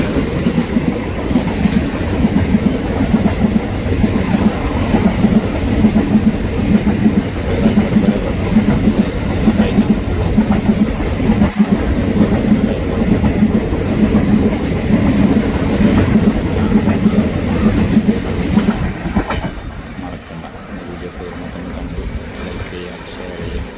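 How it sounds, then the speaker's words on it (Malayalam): A train pulls into Muthalamada railway station in Palakkad, a loud, sustained rumble of wheels and carriages close by, steady for most of the time before easing off near the end. "ഫൈനലി ആ ട്രെയിൻ വരികയാണ് കേട്ടോ"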